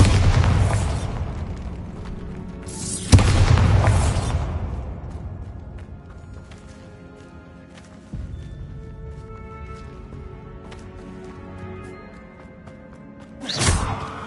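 Repeated heavy booms from spell blasts in a Harry Potter video game, set in a tomb with an altar and sarcophagus: two loud explosive bursts with long rumbling decay near the start, a softer thud midway, and a sharp blast at the end.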